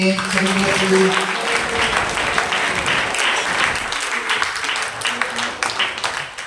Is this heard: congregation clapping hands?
yes